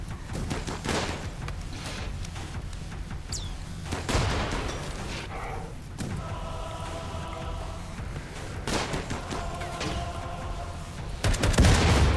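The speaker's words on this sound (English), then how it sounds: "Good hit with the rifle grenade." In the colony game RimWorld, a busy battle of repeated gunfire bursts and booming impacts, with a heavier explosion landing among the shots and layered game sound effects throughout.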